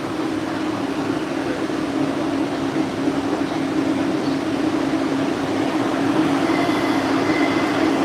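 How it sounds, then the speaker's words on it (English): A commuter train on a rush-hour ride, probably an older UTDC subway car, heard as a loud, steady rumble with a faint high whine toward the end. No one speaks. "this train should be leaving soon"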